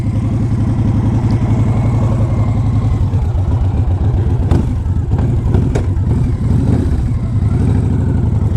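A 2006 Victory Kingpin motorcycle engine runs steadily up close, a loud, continuous mid-low rumble that stays even throughout, with brief revs.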